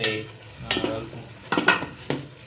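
A spoon mixes food in a pan at home with a few scraping, clinking strokes over a faint sizzle, heard close and without talk.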